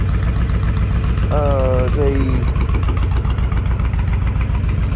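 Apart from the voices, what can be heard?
Honda VTX 1300 motorcycle engine idling with aftermarket exhaust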